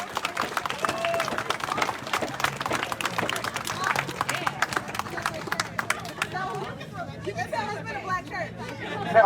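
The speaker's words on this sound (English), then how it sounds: "Everybody give yourself a round of applause for standing in solidarity today" A protest rally crowd in Grand Rapids claps and cheers loudly for several seconds over steady crowd chatter. The clapping thins out toward the end.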